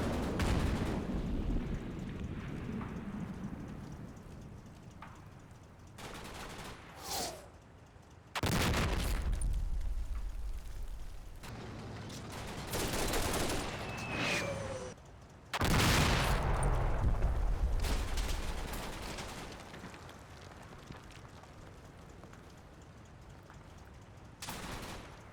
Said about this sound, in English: All of 16 Company advanced to Bosley to lay down suppressive fire.